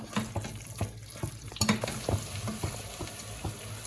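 Mutton and biryani masala are stirred as they fry in a pan. Irregular spoon scrapes and knocks sound close over a wet, bubbling sizzle, with no voices.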